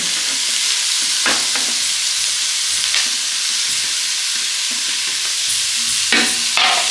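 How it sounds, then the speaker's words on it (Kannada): Finely chopped beetroot fries in hot oil in a pan, giving a constant close sizzle broken by repeated scraping clatters as it is stirred. "ಎಣ್ಣೆಲಿ ಚೆನ್ನಾಗಿ ಫ್ರೈ ಮಾಡ್ಕೊಳ್ತಾ ಇದ್ದೀನಿ"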